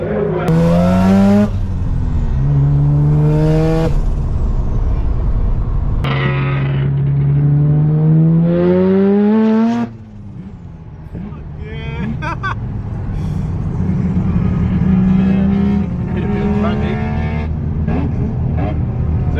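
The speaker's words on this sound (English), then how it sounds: "we're going to jump on the track and enjoy some cruising around the track in the FD RX7" A Mazda RX-7 FD rotary car runs laps on a race track, its engine note rising and falling through gear changes, loud and close, with other cars and voices mixed in the background.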